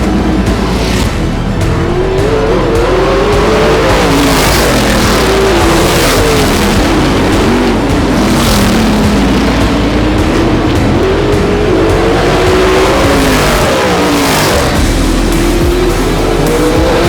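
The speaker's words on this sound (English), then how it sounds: "11 sprint cars are ready to roll and start warming up." Eleven sprint cars warming up at Ultimate Outlaws Raceway in Vereniging, engines droning loud and continuous with rising and falling revs as cars circle past.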